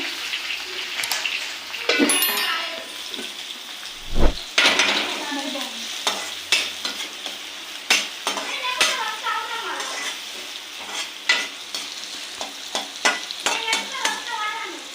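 Chopped onion and green chillies frying in a pan, with steady sizzling and frequent scraping stirs and utensil clinks against the pan, close and fairly loud, with a brief low thump partway through.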